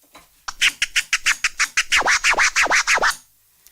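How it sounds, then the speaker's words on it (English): DJ turntable scratching that moves from quick chirp scratches into baby scratches, a loud, close run of about fifteen rhythmic back-and-forth record strokes with no talking over them. "So you can go chirp to baby scratch,"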